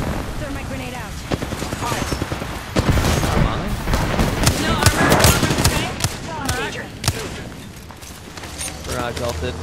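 Dense Apex Legends battle noise: rapid bursts of gunfire and sharp blasts, including a grenade explosion, crowd the mix in loud, irregular volleys, with players talking over the fighting.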